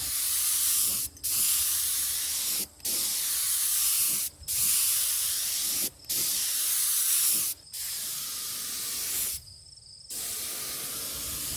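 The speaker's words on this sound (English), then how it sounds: "I got the gun loaded up with just clear polyurethane this time." A spray gun lays down clear polyurethane top coat on a wooden vanity in steady hissing bursts, each about a second and a half long, separated by short pauses, close and fairly loud.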